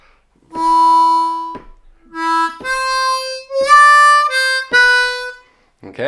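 Blues harmonica lick on a C harmonica: a few sustained reedy notes with short gaps between phrases, played alone, clear and close.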